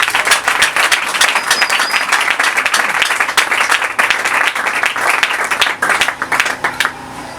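A church congregation at an elders' consecration service applauds loudly and steadily, a dense wash of many hands clapping close by for several seconds, with a few faint voices underneath.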